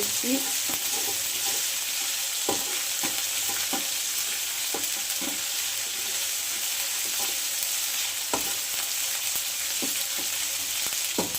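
Onion and garlic frying in hot oil until browned for chicken kosha, a continuous close sizzle broken by regular clicks and scrapes of stirring.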